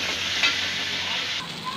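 Boiled raw banana peels sizzle steadily in a hot pan with salt, a dense continuous frying hiss close by with a brief louder crackle, shifting slightly near the end.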